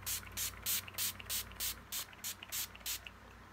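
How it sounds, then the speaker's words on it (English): Urban Decay De-Slick oil-free setting spray misted in about ten short, even bursts in a steady rhythm, close and clear with no talking. "Setting spray."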